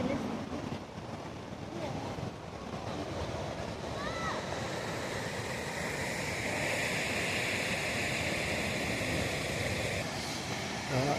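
Ocean waves crash and surge against the cliffs at the Razorback lookout on the Great Ocean Road, Australia, a steady roaring wash mixed with gusty wind buffeting the microphone throughout.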